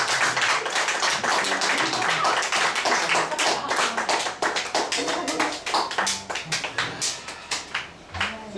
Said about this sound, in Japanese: 拍手、どっちにしても拍手。